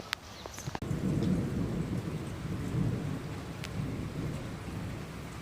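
A thunderstorm with rain: a sharp, close crack of thunder lands early, then heavy rain hisses steadily with a low rolling rumble for the rest of the moment, and no one speaks.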